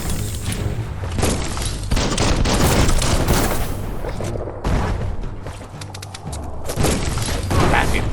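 Bomb lobber explosions in Biomutant come as repeated heavy blasts, thumps and crackling debris in dense, loud bursts with brief lulls, layered over continuous combat noise throughout.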